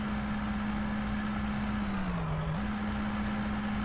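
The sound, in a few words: truck engine driving uphill in the video game Out of Ore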